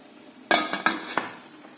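Bitter gourd stirred in a hot pan while wilting before frying: four sharp metallic clinks and scrapes of a utensil against the pan, close and fairly loud, with no talking.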